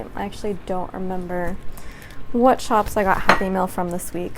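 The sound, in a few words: daily planner being opened, clattering noise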